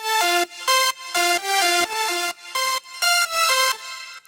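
Bright synth leads brightened by a clear master RMS exciter play a choppy melodic riff of short repeated stabs, loud and upfront with no voices.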